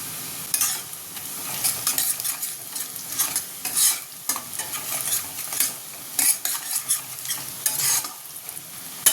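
Onions browned red with salt, turmeric and red chilli powder sizzle in a pan for egg curry, with steady close stirring and scraping strokes throughout; no one speaks.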